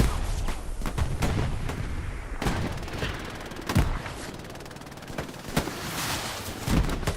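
Close, loud grenade explosion in the World War II shooter Hell Let Loose, set amid a dense battlefield of rapid gunfire cracks and booming blasts that keep sounding through the whole stretch.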